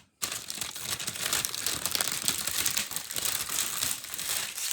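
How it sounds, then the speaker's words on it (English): Plastic gift packaging crinkling loudly and continuously close by, a dense crackling rustle as it is handled and pulled apart, with no talk over it. "excuse the crinkling, it's hard to get out"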